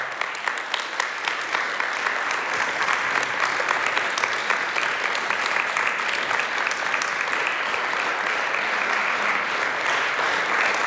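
Sustained audience applause ahead of a concert, starting with a few sharp distinct claps and quickly thickening into a full, even roar of many hands that continues unbroken.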